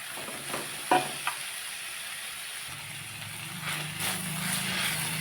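Chopped broad bean pieces dropping into hot oil with chilli powder, a steady sizzle and hiss that flares louder toward the end, with a few clinks of a spoon against the pan.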